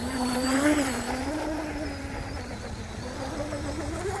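A 1/8-scale Tiny Titan micro RC hydroplane with a 5210kv brushless motor and 30A ESC screaming at full throttle, a thin high whine rising and wavering over water noise, fairly faint, with a person talking over it.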